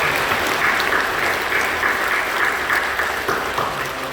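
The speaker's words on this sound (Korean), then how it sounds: "박수로 격려해 주시죠" A church congregation claps together during a Sunday worship service, steady dense applause filling the sanctuary at an even level, moderately loud and without speech over it.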